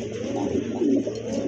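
A female pigeon coos at a breeding farm, a steady, close run of low, soft, throaty cooing rising and falling over a faint background hum, with no talking.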